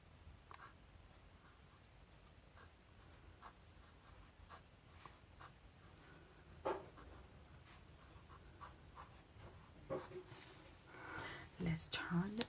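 Faint scratching of a Pilot Parallel calligraphy pen across Stalogy paper in a quiet room, with soft irregular strokes and small ticks that grow busier and louder toward the end, under soft whispered talk.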